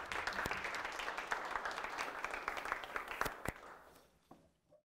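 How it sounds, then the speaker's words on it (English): Applause from the audience at a zero-knowledge cryptography talk, a steady wash of many hands clapping at moderate distance for about four seconds before fading out. "let's give him a round of applause."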